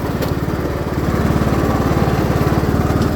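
A Craftsman LT2000 riding mower, recently repaired, drives along with a steady, loud, close-up engine chug and rapid even pulsing throughout, with no talking.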